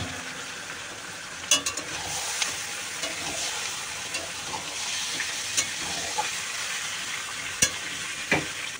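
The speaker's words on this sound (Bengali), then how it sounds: "করে এবার দিয়ে দেবো আমি এর মধ্যে মাংসটা।" Meat frying in a pan with onion and spices gives a steady, close sizzle and hiss, broken by scattered scrapes and clacks as it is stirred.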